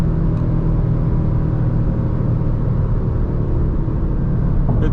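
A 2024 Audi RS3 in stock form, driven at night, rumbles steadily with a loud, close engine and road roar, holding a constant whirring drone throughout without clear gear shifts.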